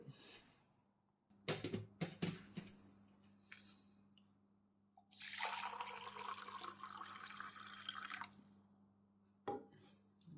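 After a few clicks and clatters, water pours in a steady stream for about three seconds into hot water, then stops; a low hum runs underneath.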